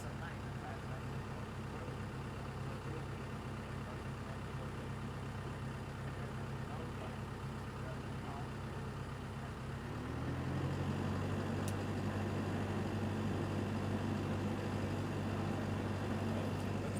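A tractor engine runs steadily in a field during spraying, a low continuous diesel drone that shifts to a higher, steadier pitch partway through as the revs change.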